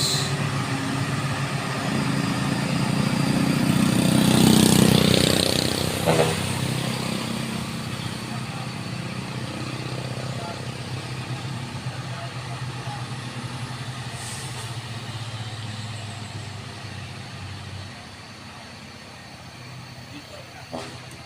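Vehicle engine labouring up a steep hill, a loud roar that swells early then settles into a steadier drone, with voices talking over it in places.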